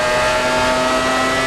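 A 1994 Formula 1 car screams at high revs onboard with Damon Hill at Monza, a loud, dense, sustained engine howl with strong harmonic whine filling the whole moment, no voices.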